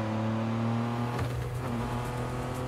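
A car picks up speed in a vehicle repair game, its engine a steady loud drone with a faint rising whir and no talk.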